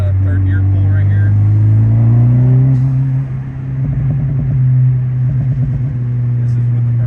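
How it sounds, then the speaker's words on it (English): A Honda Civic Type R FL5 fitted with an HKS blow-off valve pulling hard in third gear: a loud, droning engine tone climbs steadily in pitch, then drops at the shift and climbs again, heard from inside the car. "Here's the third gear pull right here."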